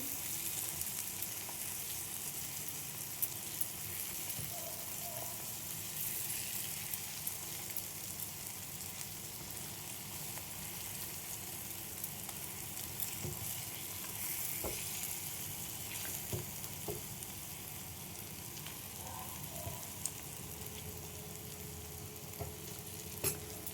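Eggs fry in a pan with a soft, continuous sizzle and scattered tiny crackles, fairly quiet and close, with occasional faint clinks.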